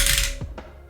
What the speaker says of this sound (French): On s'arme du cutter,